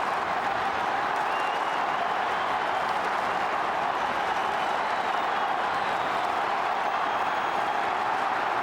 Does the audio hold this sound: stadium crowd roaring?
yes